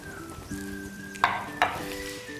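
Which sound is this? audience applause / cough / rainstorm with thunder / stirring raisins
stirring raisins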